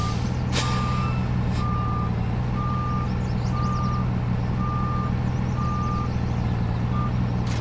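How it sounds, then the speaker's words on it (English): Truck backing up to hitch a trailer in Farming Simulator 19, a steady series of about seven evenly spaced reverse-alarm beeps over a loud, constant diesel engine drone. "Get the truck hooked back up."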